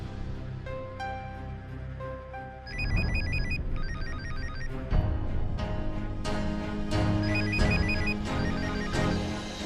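A telephone bell rings in a Hindi TV drama scene, repeated bursts of bright ringing that cut in over a swelling music score and continue through most of the stretch at moderate loudness.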